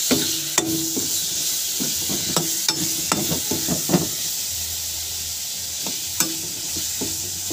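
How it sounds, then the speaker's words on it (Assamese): Goroi fish fries with turmeric, chilli, cumin and salt under a constant hissing sizzle, while a spatula scrapes and stirs in short, irregular strokes close by. "মাছখিনি অকণমান লাৰি ল'লোঁ।"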